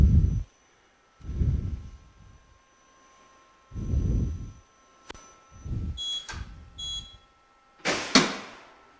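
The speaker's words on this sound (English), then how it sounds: "You will hear sign like beep." A drop-weight impact testing machine gives short electronic beeps at the end of an experiment, heard near the close after several low thuds and mechanical sounds in a lab, with no talking.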